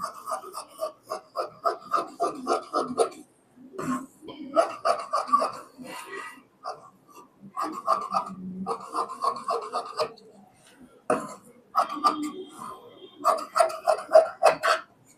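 Scissors cut through blouse fabric in repeated rhythmic bursts of crisp snipping and rasping, separated by short pauses, close by.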